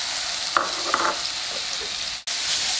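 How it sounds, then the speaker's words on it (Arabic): Onion frying in a pan still coated with meat residue for Dawood Basha, a steady close sizzle with a couple of light utensil taps and a brief dropout near the end, no talking. "غنحاول نضيف البصل"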